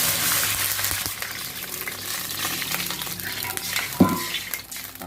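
Water running into a pot for red snapper fish soup, a steady broadband rush with light clinks of cookware. A brief knock comes near the end, and no one speaks.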